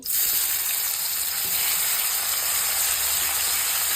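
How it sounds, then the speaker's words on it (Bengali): Onions frying in fish oil for crispy fried onions, a steady, even sizzle and hiss that holds close and unbroken throughout. "আমরা হচ্ছে মাছের তেলেই হচ্ছে পেঁয়াজ বেরেস্তাটা ভাজবো, পুরোটাই ভাজবো একদম"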